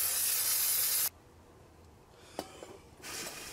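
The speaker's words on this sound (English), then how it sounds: "you wanna spray down some brake cleaner to clean off any oil or grease on the rotor" Aerosol brake cleaner sprayed onto a new car brake rotor to remove oil and grease; a loud, steady, close hiss for about a second, then quiet handling, then a second shorter burst of spray.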